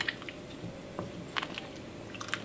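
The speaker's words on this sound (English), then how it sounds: "In it goes, and another good stir." Chicken orzo soup being stirred in a pot after leftover chicken breast is added, giving soft wet squishing and sloshing sounds in a few brief bursts. No one is speaking.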